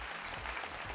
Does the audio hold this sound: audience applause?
yes